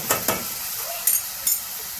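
A cowpea curry paste of fresh coconut masala sautés in hot oil with a constant sizzle. Four quick stirring scrapes come at uneven intervals, close and fairly loud.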